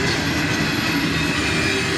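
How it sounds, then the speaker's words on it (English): A northbound military vehicle freight train led by a pair of KCS ET44AC locomotives rolls past close by, a loud, steady rumble of wheels and railcars with faint squeals and clatter throughout. "A pair of KCS ET44 ACs lead this northbound military vehicle train."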